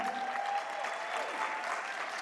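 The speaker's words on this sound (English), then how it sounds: "A round of applause there." Audience applause at a conference gathering, with steady, moderately distant clapping from a seated crowd and no talk over it.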